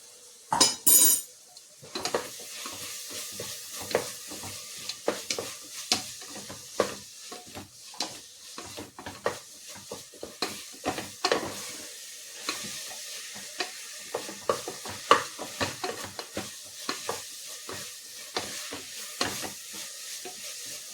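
Garlic ginger paste frying for chicken pulao sizzles softly while a spoon stirs it, scraping and clinking against the metal pot in irregular, busy strokes, and no one speaks.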